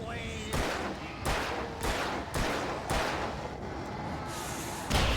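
Flare gun shots in the video game Alan Wake, a series of repeated sharp bursts roughly every half second over a dense, noisy game soundscape.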